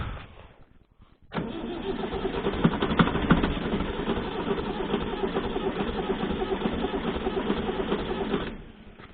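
Leyland 154 tractor diesel engine cold-starting and catching, then running steadily at a loud, rough idle with a dense mechanical clatter before cutting off.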